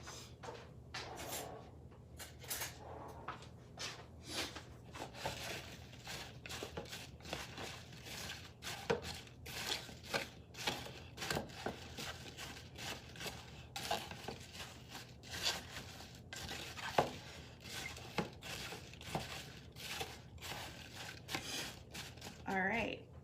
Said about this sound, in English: put our cinnamon sugar mixture on there and mix those up